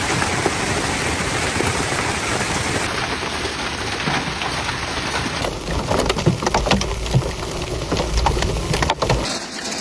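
Heavy rain from a violent Alberta thunderstorm with giant hail and powerful winds pours down in a dense, continuous hiss, with sharper crackling impacts growing in the later seconds.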